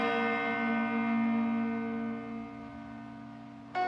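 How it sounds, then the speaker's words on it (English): A large church bell tolls as a death notice, one deep resonant stroke ringing out and slowly decaying with rich sustained overtones, a fresh strike just beginning at the end. "She remembers that church bell would ring every day, that there's a certain bell for a notice for the death."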